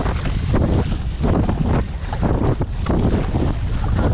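Wind buffeting a microphone while kayaking into a headwind, a loud, rumbling, gusty roar with uneven surges throughout and no voices.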